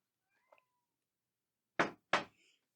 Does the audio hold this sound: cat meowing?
yes